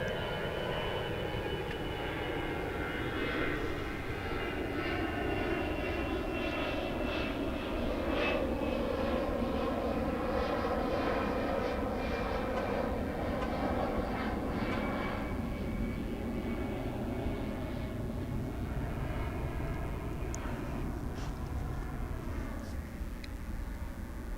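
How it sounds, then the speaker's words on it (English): An American Airlines Airbus A319 bound for Lubbock passes at night at Dallas/Fort Worth Airport. Its jet engines make a continuous, fairly distant roar that slowly swells and shifts in pitch for the whole stretch, with no talk. "That aircraft was American Flight 2061, an Airbus A319, bound for Lubbock, Texas."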